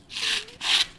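A Wharncliffe prototype knife blade with a hollow grind slices through six stacked sheets of newspaper, making two close, crisp rasping strokes with a brief pause between them.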